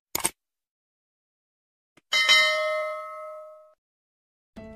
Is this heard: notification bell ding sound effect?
yes